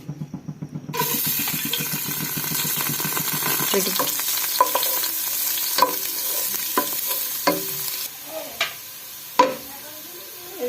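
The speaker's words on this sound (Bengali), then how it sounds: "এবার সবজিগুলো আমি একে একে ভেজে দেব প্রথমে গাজর দিয়ে দিচ্ছি" Carrots and other vegetables for a vegetable soup go into a hot pan with a rising sizzle, followed by repeated scraping stirs and clatters of the spoon, close up and without voices.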